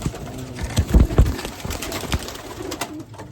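Racing pigeons in a loft coo and shuffle close by, with soft low coos, wing flutters and scattered knocks. The sounds come in an irregular run.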